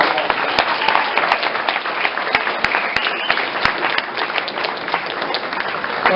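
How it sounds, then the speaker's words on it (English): An audience at an awards banquet applauds, with dense, steady clapping that fills the room throughout and sounds close and loud. "give them a round of applause."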